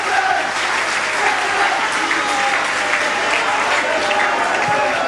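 Steady applause from a large crowd at a 1986 St Helens v Leeds rugby league playoff match as an injured player is carried off, continuous and fairly loud, with a broad wash of clapping and faint crowd murmur.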